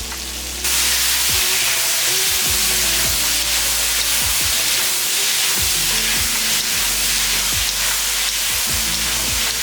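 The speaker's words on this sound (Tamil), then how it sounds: "இந்த அளவுக்கு நல்லா வதக்கிடுங்க." Cauliflower, jackfruit and potato sautéing in a pan with tomato, onion and salt: a loud, continuous sizzle close up, broken by repeated scrapes and clinks of a spatula stirring against the pan.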